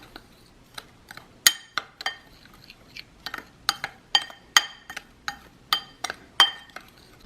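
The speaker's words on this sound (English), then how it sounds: "I'm also gonna add some Montreal steak seasoning and then mix them well." Roast beef being tossed with Montreal steak seasoning for a slow cooker Mississippi pot roast gives off a series of sharp clinks and taps, like a spoon knocking a dish, coming irregularly and close by with no talking.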